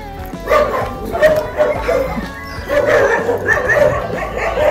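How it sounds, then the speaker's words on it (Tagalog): Several angry dogs at a rural bamboo site bark and yip in repeated bursts, fairly close and loud, with brief whimpers between the barks. "Yung mga aso, galit pa galit."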